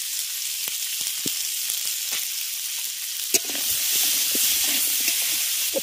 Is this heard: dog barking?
no